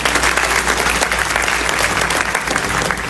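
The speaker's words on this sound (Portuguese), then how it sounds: "Uma salva de palmas a Jesus pela vida do meu filho" A church congregation applauds with steady, loud, continuous clapping from many hands that holds evenly throughout, with no talking over it.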